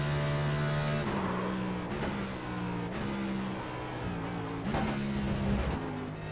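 Race car lapping Watkins Glen in the iRacing video game, a loud continuous engine drone that drops and rises through downshifts and braking, with repeated gear changes.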